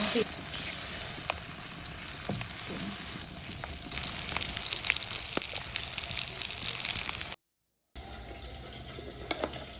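Tuna fries in hot butter in a pan with a continuous hissing sizzle that briefly cuts out before resuming.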